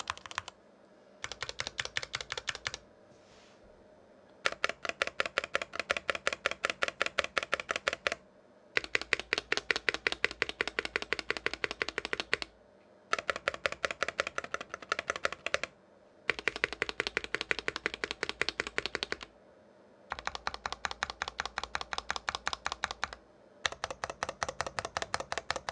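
Bursts of rapid typing on NK65 mechanical keyboards fitted with Tealio V2 switches, close and clear, in several runs of dense clacky keystrokes separated by short pauses, with no talking.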